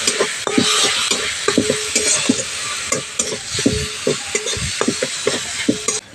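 Ground spices (coriander, cumin, garam masala) with a little water sizzling in a pan while being stirred, a steady frying hiss broken by regular scraping strokes of the spoon, close and alone.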